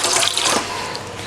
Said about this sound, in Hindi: ग्रीन टी का पानी जो है वो मैं कूलर से ले रही हूँ